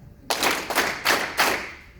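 A conference audience claps four times in unison, four broad, loud bursts evenly spaced with no voices over them.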